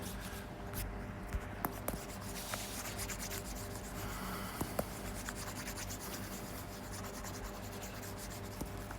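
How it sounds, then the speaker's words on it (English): Writing being erased from a board in a classroom review session, a steady soft rubbing and scraping that goes on with little pause, close and moderately quiet with no speech. "I have to erase everything."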